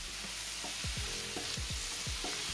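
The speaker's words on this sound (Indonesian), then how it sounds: "Kita tumis sampai wangi si bawang bombay, bawang putih dan juga bawang merah sampai harum" Onion, garlic and shallots sautéing in a pan as a spicy-sweet chicken fillet dish is started, giving a steady sizzle with repeated stirring scrapes of a utensil against the pan, close and alone without voices.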